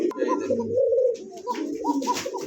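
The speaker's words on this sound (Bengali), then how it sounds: "ডাক দেখছেন নি, অ্যারাবিয়ান ককা, সেই ডাক" Black Arabian pigeons coo in a short run of soft, throaty calls, fairly close, with faint background chatter and rustle between the phrases.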